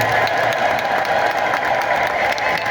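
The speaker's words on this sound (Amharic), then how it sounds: "እንኳን ደስ ያላችሁ ምዕመናን፣ እስቲ አጨብጭቡ" An Ethiopian Orthodox congregation at a feast-day service at Medhane Alem church in Hawassa applauds in a full, steady burst of clapping from many hands.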